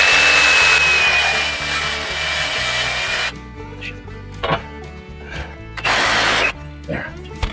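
A reciprocating saw fitted with worn blades cuts through wood, loud and continuous for about three seconds, then stops and restarts in short bursts. Someone speaks in the pauses between cuts.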